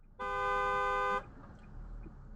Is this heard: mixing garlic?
no